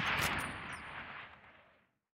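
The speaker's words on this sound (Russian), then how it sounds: "Повернись налево, подойди к ограждению и сделай 2 выстрела по мишени." A single Springfield rifle shot fired at a target on a training range in Call of Duty, a sharp loud report whose echoing tail fades out over about two seconds.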